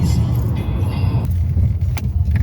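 A Dodge Ram–based camper van drives along the road, a loud, close low engine rumble and road noise filling the clip while a person speaks briefly over it.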